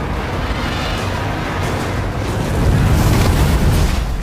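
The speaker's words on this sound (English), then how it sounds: "Drogon's fire blasting does a lot of damage." Drogon the dragon blasting fire and causing explosions in a Game of Thrones battle episode: a loud, continuous roaring rumble that swells even heavier in the last couple of seconds, with no voices.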